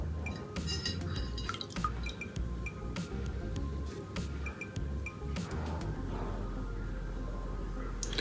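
A Boat Ultima smartwatch is lifted out of water after more than eight minutes submerged, shedding scattered soft drips and small clinks, faint and close, with quiet handling noise and no speech.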